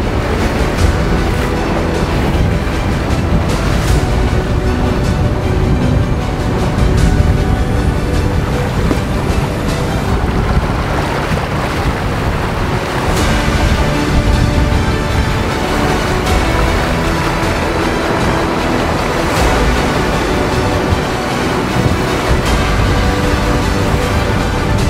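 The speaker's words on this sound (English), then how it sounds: "this morning's conditions are pretty much the same as yesterday's, rough with steep waves" Rough sea with steep waves slams against a sailing yacht on passage toward Tahiti, giving loud, continuous rushing water and wind noise with irregular surges throughout and no talk.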